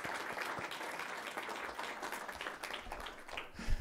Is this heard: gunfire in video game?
no